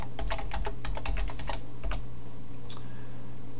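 Quick bursts of keystrokes on a computer keyboard while writing jQuery code, clicking in clustered runs for about two seconds before tapering into near silence with a faint hum.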